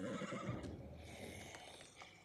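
A horse whinnies loudly in a fantasy drama scene from Rings of Power, a close neigh heard over faint hoof clops and background ambience.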